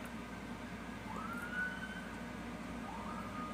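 Emergency sirens wail faintly in the distance, two rising and falling sweeps drifting over a quiet, steady background hum.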